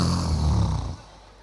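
A voice imitates a husband snoring with a single low, rasping, drawn-out snore up close that fades out after about a second.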